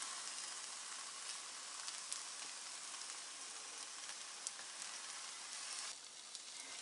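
Egg paratha frying in oil in a pan, a steady dense sizzle with faint crackles throughout, close and even, with a brief dip near the end and no talking.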